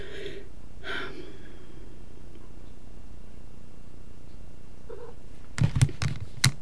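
A house cat purrs with a low continuous rumble, close and soft, with a couple of faint vocal bursts early on and a few sharp sniffs or snorts near the end.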